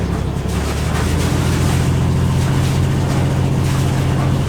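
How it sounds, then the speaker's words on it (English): Inboard diesel engine of a Beneteau Oceanis 38.1 sailboat idling in neutral, a steady low throbbing drone with a constant hum, close and continuous with no talk over it. "Once the engine is running, make sure that you have water flowing out of the outtake"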